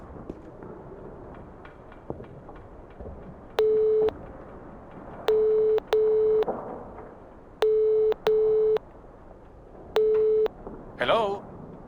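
A telephone line tone from the NI-BI-RU adventure game, used at a hotel reception desk: a steady electronic tone sounds in six clean, evenly spaced bursts of about half a second each over a low room hum.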